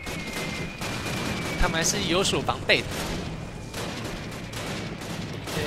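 Gunfire from the original Call of Duty video game crackles in a few sharp shots over a continuous game soundscape, partly under someone talking.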